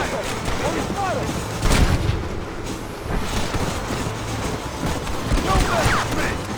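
Gunfire from soldiers fighting rebels around a train in the video game Red Dead Redemption, sharp reports and bursts scattered through steady rumbling train noise, with shouting voices over the top.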